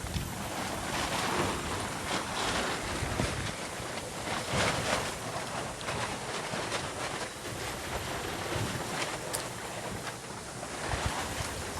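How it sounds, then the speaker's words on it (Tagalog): Strong typhoon wind roars continuously over floodwater from an overflowing river in a flooded home compound, a loud, broadband rushing with heavy buffeting on the microphone and no pauses. "Tubig. Lakas ng hangin."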